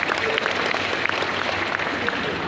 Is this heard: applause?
yes